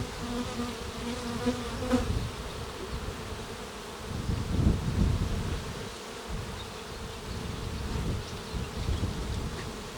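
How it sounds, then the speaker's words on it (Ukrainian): Honey bees buzz steadily around an opened Ukrainian-Alpine hive during the main nectar flow, a dense droning swarm sound close by, swelling slightly midway with no talking. "тому бджілки носять нектар і стараються."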